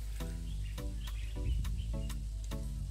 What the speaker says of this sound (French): On se réveille avec le bruit des oiseaux, le bruit des animaux.